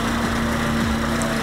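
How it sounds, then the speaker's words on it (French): Husqvarna LC348V lawn mower fitted with a swapped-in Honda engine runs steadily up close, a loud, constant drone with no talking. "ça prouve que c'est une tondeuse qui ramasse vraiment pas mal"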